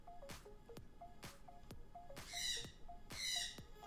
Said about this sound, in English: Who can hear the bird in the background?